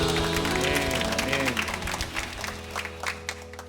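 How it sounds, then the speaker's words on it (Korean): Church congregation giving applause during a Sunday morning worship service, clapping swelling over sustained instrumental chords, then thinning into scattered individual claps as the music settles. "하나님께 영광의 박수 올려드리겠습니다"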